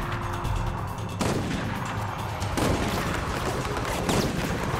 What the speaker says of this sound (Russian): О, цистерни, она тоже взрывается.